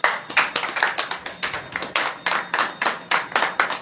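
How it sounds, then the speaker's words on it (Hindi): Congregation at a Hindi-language church service on fasting and prayer clapping along in a steady rhythmic beat, loud and close, repeated claps pulsing evenly with no talking. "ताली बजाएंगे सब।"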